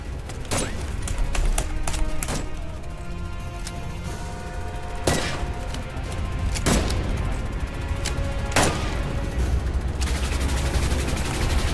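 Gunshots in the video game Assassin's Creed Chronicles: Russia, a few loud isolated sharp cracks spaced several seconds apart over a steady noisy game backdrop.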